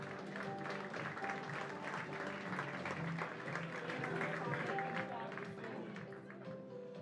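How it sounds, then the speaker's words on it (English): Audience at a live-streamed horse awards ceremony gives a warm round of applause for a winning horse, a steady, fairly faint wash of clapping under a music bed. "Ladies and gentlemen, another warm round of applause for Beach Beauty."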